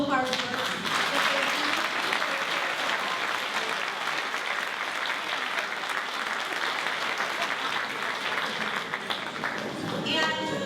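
An audience at a school National Honor Society program claps steadily and loudly for about ten seconds, a dense continuous wash of applause that tapers slightly at the end.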